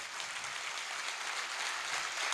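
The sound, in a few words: audience applause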